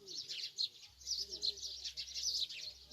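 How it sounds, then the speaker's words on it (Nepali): Small birds chirp and tweet steadily in the background, a continuous bright twittering that runs throughout with a low hum underneath and no talking. "यो जुन चराचुरुङ्गीको मिठास आवाज छ"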